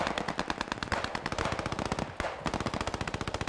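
Rapid, loud machine gun fire in a multiplayer shooter game, fast regular bursts close by with one short break, no voices over it.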